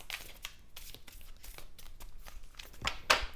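Tarot cards being shuffled by hand, a quiet run of soft papery riffles and taps with brief bursts, the loudest near the end, heard alone at close range.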